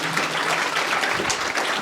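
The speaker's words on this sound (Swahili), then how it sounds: "Pigia Yesu makofi" A church congregation claps together in praise of Jesus during a healing testimony service, a dense, steady burst of applause filling the room throughout, with no voices standing out.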